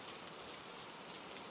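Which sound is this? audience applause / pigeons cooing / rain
rain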